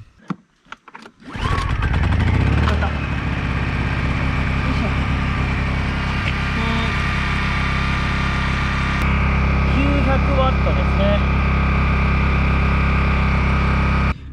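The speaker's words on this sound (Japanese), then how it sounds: "発電機はね、インバーター発電機です。" A small inverter generator feeding a portable air conditioner starts after a few pull-cord rattles, then settles into a loud, steady droning hum that continues to the end with a slight shift in pitch partway through.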